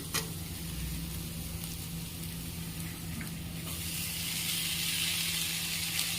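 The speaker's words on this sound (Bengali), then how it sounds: "সবজিটা ভালো করে ভেজে নিচ্ছি।" Egg and vegetables frying in a pan for chow mein noodles, a steady broadband sizzle that holds constant throughout and brightens slightly toward the end, close and fairly loud with no talking.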